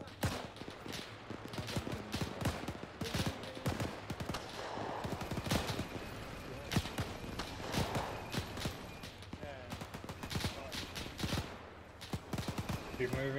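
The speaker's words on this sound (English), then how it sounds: "Shots on the left" Sharp gunfire bursts and scattered single shots crackle throughout a WW2-era battle in ArmA 3, some volleys near and others more distant, mixed with a busy background of movement and voices.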